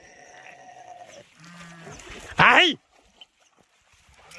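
A sheep gives one loud, wavering bleat close by, a short rising-and-falling cry following softer murmurs and scattered faint bleats from a flock, with a little background voice.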